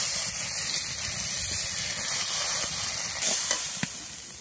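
Dal hitting hot oil in a home kitchen, a loud steady steaming hiss and sizzle with brief crackles, close and alone without talk.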